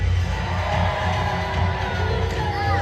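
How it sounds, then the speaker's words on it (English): A Lancastrian crowd at a War of the Roses show at Warwick Castle cheers loudly and steadily for the queen, a dense, unbroken roar of shouts and whoops close by. "Lancastrians, a cheer for our beautiful queen!"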